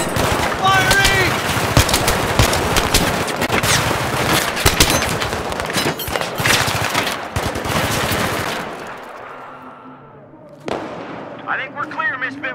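Sustained automatic gunfire and heavy bursts fill a Battlefield 3 combat mission, loud and dense for several seconds before easing, with shouted voices and radio chatter mixed in near the end.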